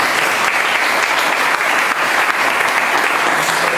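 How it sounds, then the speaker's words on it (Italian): An audience breaks into steady applause, dense clapping from many hands sustained at even loudness for a few seconds with no voices over it. "Comunque cominciamo a fare un applauso"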